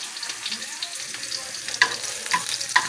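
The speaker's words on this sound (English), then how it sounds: "So we're going to let these sizzle and get brown on them." Steady hiss of chicken frying in a pan over raised heat, with a few louder crackles and pops near the end; close and continuous, no talking.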